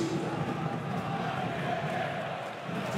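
A basketball arena crowd roars steadily during a professional game, with a dense, continuous wash of cheering and shouting heard up close.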